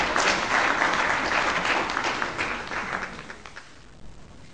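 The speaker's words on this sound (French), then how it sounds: "Encore plus d'acclamations pour accompagner Madame la Présidente." Applause from an audience at a peace forum, a dense wash of clapping that starts strong and gradually thins and fades over several seconds, with no one speaking.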